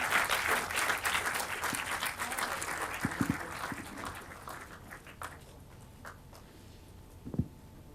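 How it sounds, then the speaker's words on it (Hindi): Audience applause fills the room at the Pune launch of the book "Naya Savera". The dense clapping starts loud and thins out into a few scattered claps toward the end. "तालियां बजती रहनी चाहिए।"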